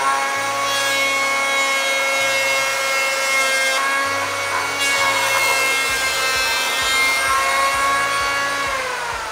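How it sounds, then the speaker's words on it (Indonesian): A hand plane shaves wood for a window frame, making long continuous rasping strokes, loud and close, with brief pauses between passes. "Pertama-tama harus kita serut dulu ya."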